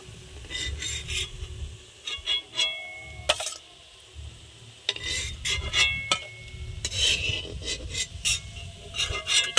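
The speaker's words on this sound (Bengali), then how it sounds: "এবার সব তুলে নেব।" Fried ash gourd pieces scraped and lifted from a pan with a utensil: repeated rasping, rubbing strokes and occasional sharp clinks against the metal, close and fairly loud, with a faint sizzle underneath.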